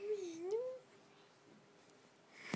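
A house cat gives one short, faint meow with a wavering pitch, followed by quiet room tone and a soft noise at the end.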